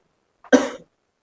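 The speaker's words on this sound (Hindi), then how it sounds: "इसको खांसी हो रहा है" A single short, sharp cough, close and clear, with silence around it.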